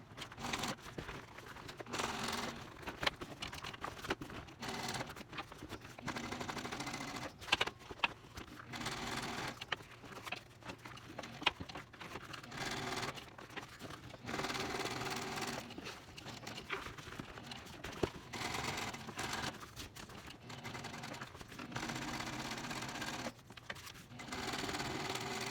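A sewing machine runs in repeated bursts of stitching as it sews straps up and around onto a wide tote bag, steady whirring runs broken by short pauses, close and moderately loud with no talking.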